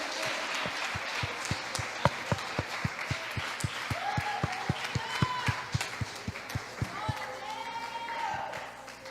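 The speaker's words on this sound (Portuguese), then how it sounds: "Aplauda o Senhor Jesus, aplauda, aplauda." Church congregation claps in time during a Pentecostal service, sharp rhythmic hand claps beating steadily under loud preaching and shouting voices throughout.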